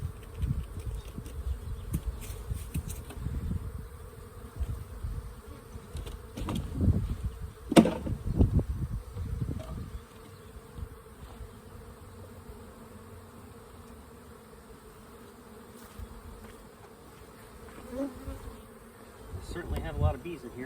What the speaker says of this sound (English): Certainly have a lot of bees in here.